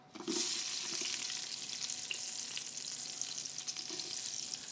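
Onions tipped into a hot pan for veal osso buco set off a loud, steady sizzle that starts sharply and keeps crackling close up, with no voices.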